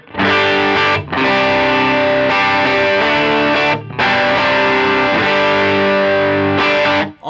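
Electric guitar driven through a Scream 808 overdrive model on a Line 6 HX Stomp, playing loud, gritty chords and riffs in sustained phrases with two short breaks, alone without talk.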